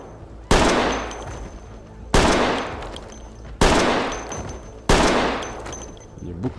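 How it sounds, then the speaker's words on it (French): Four slow, evenly spaced heavy gunshots as a player fires on a zombie horde in the game Project Z, each a loud crack with a decaying echo tail, no speech. "Il tire lentement parce qu'il savoure sa horde."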